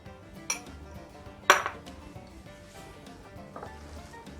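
A spoon clinks against a bowl while cornflour is mixed into a mashed mixture, giving a couple of sharp metallic knocks over soft, quiet stirring.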